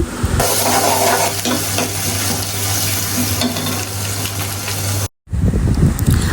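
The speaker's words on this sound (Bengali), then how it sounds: "আমার তেল গরম হয়ে এসেছে তেলের মধ্যে এখন বেটে রাখা পেঁয়াজ মরিচ রসুন দিয়ে দিচ্ছি" Ground onion, chili and garlic paste hitting hot oil in a loud, dense, continuous sizzle that cuts off briefly near the end, then resumes.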